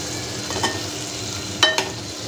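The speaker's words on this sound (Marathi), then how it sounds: "हे ते अंडी झाले आपण सगळी फ्राय करून" Eggs frying in a pan for egg masala, a soft steady sizzle with a few scraping stirs and two sharp metallic clinks near the end, close and without talk.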